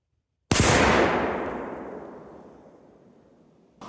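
A single rifle shot at an outdoor shooting range, from a Browning A-Bolt Medallion or Savage 110E in .270, or a Marlin M922 in .22 Magnum: a sharp, loud crack with a long fading echo, followed by the onset of another sound.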